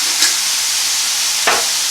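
Pork with peas and corn browning in a hot pan for ginger pork gives off a steady, bright sizzle, with two brief louder stirring scrapes, close up and with no talking.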